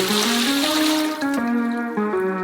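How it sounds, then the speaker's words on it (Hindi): Three liters of water poured steadily into a large saucepan, the filling tone rising gradually in pitch as the pan fills, close and loud throughout. "एक बड़े सॉसपैन में 3 लीटर पानी।"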